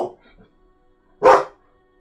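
A single sharp dog bark rings out close by after a mostly quiet stretch, with a faint murmur at the very start.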